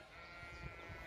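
A flock of ewes bleats outdoors, several overlapping calls rising over steady background noise in a brief burst, fairly distant.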